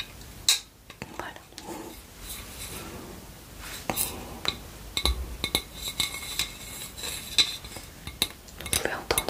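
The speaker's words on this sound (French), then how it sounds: "Vous pouvez entendre, c'est du verre." A glass object handled up close during an ASMR unboxing, giving light clinks and taps among soft rustling and handling noises, with whispering throughout.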